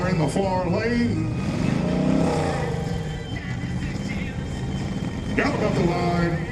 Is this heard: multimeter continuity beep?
no